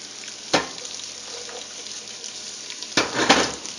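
Chopped onion frying in melted butter in a pan gives a steady soft sizzle, broken by two louder scraping stirs near the start and end.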